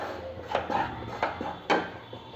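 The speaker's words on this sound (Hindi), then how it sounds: "ऐसे हम लगातार चलाते हुए भून लेंगे।" A spoon stirs dry-roasting ingredients for traditional jaggery paak in a pan over a medium gas flame, giving a few close scrapes and light knocks at irregular intervals over a quiet background, with no talk.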